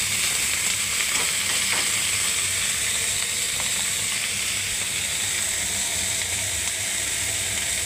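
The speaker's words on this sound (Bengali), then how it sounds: "এবার আমি কুঁদরি আলুটাকে দেখুন ছেড়ে দিচ্ছি বন্ধুরা।" Ivy gourd (kundri) and potato pieces frying in hot oil, a steady bright sizzle with a few faint stirring clicks, close and continuous with no talking.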